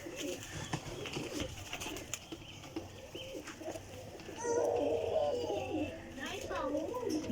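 Pigeons coo softly in the background, with a clearer rolling coo in the middle, while a person talks over them throughout.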